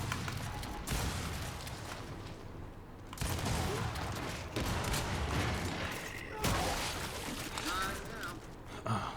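Lancer rifle gunfire in the Gears of War video game sounds as sustained automatic bursts with rattling shots and blasts, separated by short gaps, under a voice talking.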